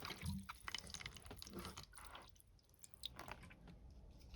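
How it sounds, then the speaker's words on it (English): Water trickling and dripping over the roots of an Eastern Redbud bonsai tree being wetted before potting, a soft, close, irregular patter of drips and splashes with wet squishing. "Just gonna get the roots a little wet quick."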